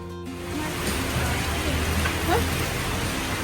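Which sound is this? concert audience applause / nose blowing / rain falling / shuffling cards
rain falling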